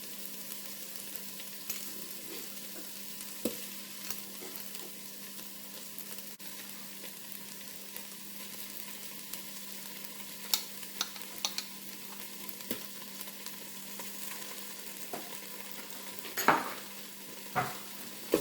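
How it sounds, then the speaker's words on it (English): Curry paste with ginger and garlic sizzles quietly and continuously in a pan, with occasional soft clicks and scrapes of a utensil stirring it. "We're just going to let that toast for just a minute."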